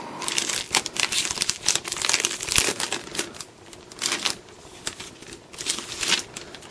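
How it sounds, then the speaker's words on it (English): Protective plastic film peeled off a new Lenovo Yoga Tablet 10, giving close crinkling and crackling bursts that come in irregular waves with brief pauses. "we are going to just take off the plastic"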